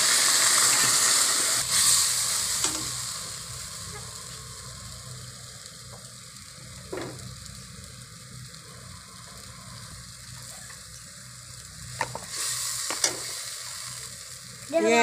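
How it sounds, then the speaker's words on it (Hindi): Water poured over browned onions in a pot for village-style Punjabi aloo matar pulao, giving a steady close sizzle with scraping stir strokes and a few sharp clinks, no talking. "अब इसमें पानी डालेंगे।"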